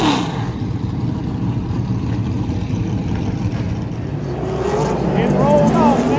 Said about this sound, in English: Cars are fired back up, about to roll out on the track.